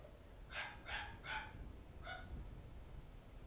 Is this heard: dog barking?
yes